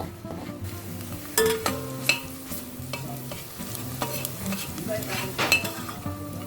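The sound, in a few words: crushed garlic frying in pan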